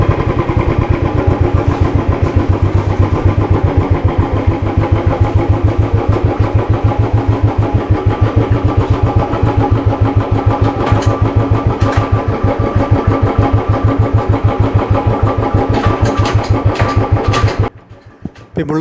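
A Royal Enfield Bullet motorcycle engine runs steadily up close with the classic rapid, even thump, loud and unbroken for most of the stretch before it suddenly cuts off near the end.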